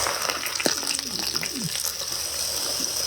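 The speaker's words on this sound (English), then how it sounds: "We'll put a little chicken in there. All right, leave it sizzle." Steady hiss of chicken frying in a pan, constant and close, with faint clinks and a brief murmur of a voice in the background.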